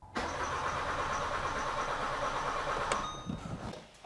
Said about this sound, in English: so we can crank the engine over without it starting